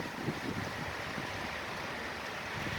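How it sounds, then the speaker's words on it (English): Strong wind of about 35 mph during a thunderstorm roars steadily and broadly into the microphone, a continuous rushing buffet with no voices. "I'm getting hit in the face with about a 35-mile-an-hour wind right now"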